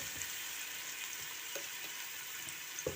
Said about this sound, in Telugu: బాగా ఫ్రై అయిపోయినాయి చూడండి